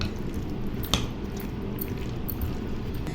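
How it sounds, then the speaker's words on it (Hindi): Fruit chaat being mixed with cream in a bowl gives a steady, close, soft wet squishing with a brief louder clack partway through. "मलाई डाल के मैंने अच्छी तरह मिक्स कर लिए"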